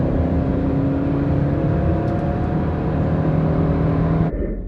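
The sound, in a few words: Ford Aspire and Honda City cars accelerating in drag race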